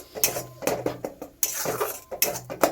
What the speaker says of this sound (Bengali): তো দিয়ে আমি এটাকে একটু নাড়াচাড়া করে নেব ভালো মতন